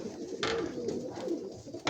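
Pigeons in breeding season coo close by in low, rolling repeated calls, with a couple of brief rustles or wing flaps.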